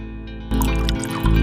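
Water drips and trickles in short, bright plinks over a low steady fill. The drops are close and clear, with no voices.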